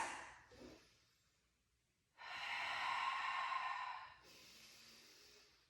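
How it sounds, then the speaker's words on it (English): Slow, deep breaths drawn in and let out while setting up for a kettlebell deadlift, a short breath followed by a long, loud exhale-like rush and a softer trailing breath, close and with no talking. "think about breathing into my chest wall for a couple breaths"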